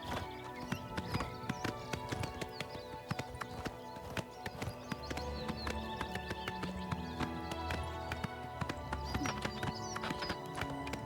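Hooves clip-clop steadily as a horse is ridden in Oblivion Remastered, a brisk, even rhythm of hoofbeats over a low ambient game score, with an occasional whinny.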